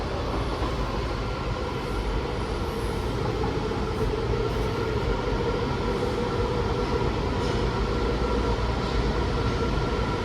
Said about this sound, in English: We're on a 7K series train in car 7575.